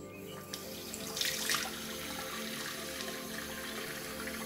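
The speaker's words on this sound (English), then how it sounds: "You can wash the cleanser off with water straight away." Tap water runs steadily into a sink while cleanser is rinsed off a face during a bee sting facial, a soft, close, continuous splashing stream with a brief louder gush.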